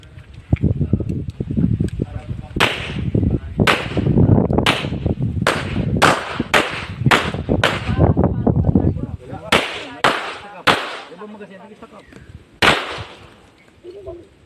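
Pistol shots crack out at a firing range, over a dozen sharp reports in an irregular volley, loud and close, with voices and range noise running underneath.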